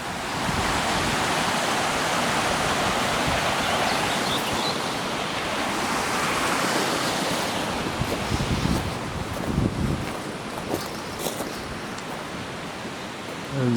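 River water flowing steadily in open country at the base of the Sangres, a continuous broadband rush with light wind, no voices.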